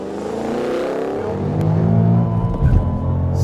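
A 2013 Ford Shelby GT500 launches hard and accelerates, its engine roaring loud and close as the pitch climbs steadily through the revs, with a brief rough surge near the end.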